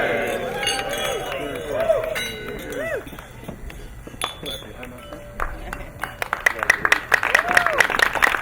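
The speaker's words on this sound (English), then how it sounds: "A round of applause to make its way back." Wedding guests in Sonoma applaud after a toast to the couple. Scattered claps start under voices and warm tones, then build into brisk, dense clapping through the second half.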